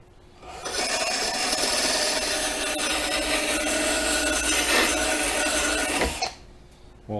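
A hand file rasps steadily across a lawn mower blade for about five seconds, a loud, continuous scraping with no pauses, then it stops abruptly.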